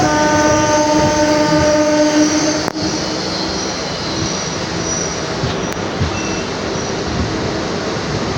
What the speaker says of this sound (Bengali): ট্রেন এখন আমাদের ছেড়ে দিল হৃদয়পুর